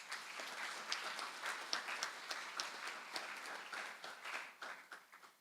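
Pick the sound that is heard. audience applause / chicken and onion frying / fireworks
audience applause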